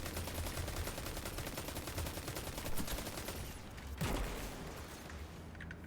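Rapid, sustained automatic gunfire hammers away at an enemy in the Destiny video game. A dense, loud stream of shots rattles on with a couple of heavier impacts, and no talking.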